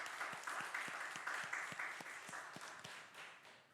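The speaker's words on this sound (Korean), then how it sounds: "우리 하나님 앞에 영광의 박수를 올려드립시다." Congregation applauding during a Sunday church service, steady rhythmic clapping from a crowd, moderately distant and fairly soft, lasting a few seconds without speech.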